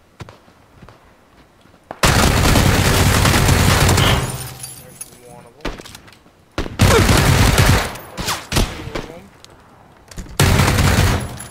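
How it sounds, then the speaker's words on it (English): Gunfire in the battle royale game PUBG: loud, dense bursts of automatic fire in several volleys separated by short pauses, up close and dominating the mix, with a voice speaking in the quieter gaps. "quit shooting at me"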